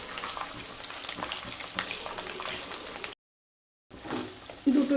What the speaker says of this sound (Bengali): ওই পনিরটাকেই ভেজে নিচ্ছি